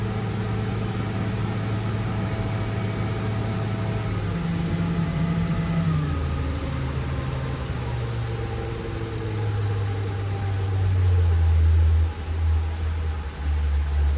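A Mercury 350 Verado outboard on a Parker 850 Voyager boat runs at about 4,000 RPM and 22 knots, a steady, continuous engine drone with wind and water wash, and a slight swell in loudness near the end.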